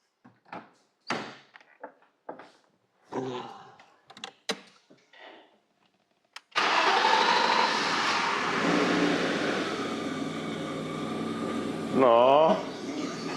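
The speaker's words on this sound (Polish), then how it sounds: "posłuchajmy sobie oryginalnego brzmienia tego auta" Scattered soft voices and clicks, then a BMW E34 engine with its original exhaust abruptly fires up and keeps running steadily and loudly, with a voice briefly speaking over it near the end.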